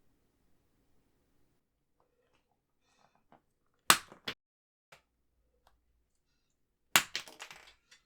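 Pentel watercolor pen bodies being cut, heard as a few sharp isolated cracks and snaps against near silence, each one close and abrupt, the last followed by a short clattering rattle.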